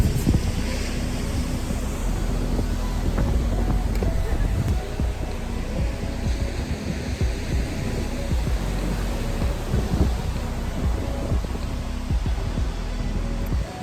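Steady beach wind at Gulf Shores buffets the microphone in a continuous roar, with surf washing underneath, a constant close rush throughout.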